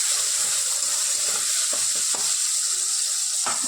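Chopped tomatoes fry in a pan with a steady hiss. A few short scraping strokes of stirring stand out above it.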